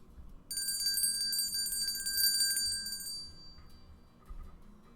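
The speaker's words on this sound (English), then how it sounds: "Thank you for ringing the bell." A bright bell sound effect rings steadily for about three seconds, then fades into quiet, heard alone.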